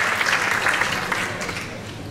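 A school audience at the 150th-anniversary celebration of ITIS Altamura applauds the dedication of the gym to Professor Panettieri: dense, steady clapping from many hands fills the room and holds at an even level throughout.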